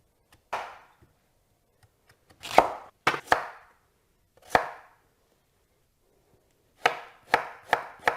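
An unpeeled radish is sliced thinly with a kitchen knife on a board, giving crisp, close knocks that come singly and in quick runs of three or four, with quiet pauses between.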